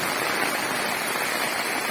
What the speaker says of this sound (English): it has started raining as expected